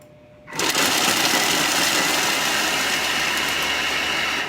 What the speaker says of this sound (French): Puis 3 à 4 secondes, vitesse 7, on va venir râper notre fromage